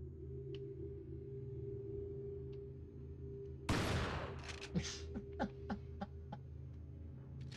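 A loud burst of gunfire in Resident Evil 4 erupts, followed by several sharp, rapid shots fading out, over a low steady background hum.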